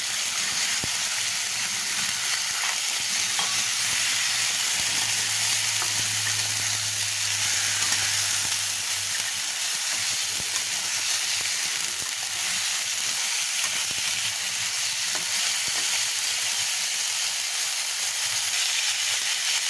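Meat frying in a pan with leaves for a Bengali home-cooked dish, a dense, even sizzle and hiss of oil held close and loud, with faint stirring and a low hum at times, no voices.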